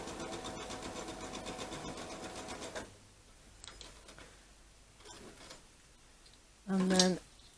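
Sewing machine stitching along a marked line on a quilt block, a fast rhythmic mechanical chatter for about three seconds, then quieter handling and a short loud whir near the end.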